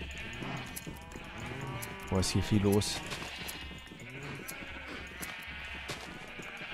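Several sheep bleat in Minecraft, a cluster of loud bleats in the middle with softer ones around it, while someone talks over them.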